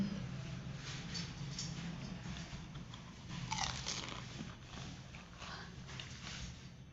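Someone bites into crisp fuchka and chews close to the microphone, soft crunching and wet mouth sounds over a steady low background hum, fairly faint and without talk.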